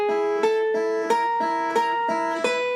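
Swarmin' Sun guitar lick in E, bouncing between fretted notes and open strings with pick and third finger: a steady, ringing pattern of plucked notes with regular accented attacks, close and clear with no talking.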